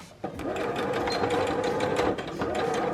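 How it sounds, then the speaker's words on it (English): A sewing machine stitching fabric for a mini scrunchie, running in a steady, loud mechanical whir that starts abruptly and continues with rapid needle rattles. "And then pop it back under the sewing machine, and while leaving that little gap part."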